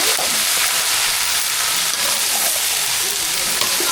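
Mango pieces hit a hot tempering of mustard seeds and dried red chillies for a mango and drumstick sambar, giving a loud, steady, continuous sizzle and crackle of frying with no voices.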